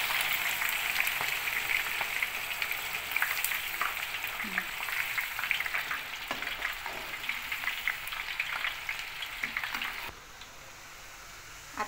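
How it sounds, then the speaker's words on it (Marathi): Onion sizzling and frying steadily in a pan over a low gas flame, a continuous close crackle with small pops and occasional stirring, quieting toward the end. "गॅसची फ्लेम स्लो करून हा पूर्ण कांदा आपण तळून घेऊया।"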